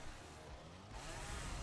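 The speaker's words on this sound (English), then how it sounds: "Chainsaw! Chainsaw!" A chainsaw weapon roars in a Minecraft recreation of Doom 2016, a steady, gritty engine drone that swells louder partway through and runs without a break.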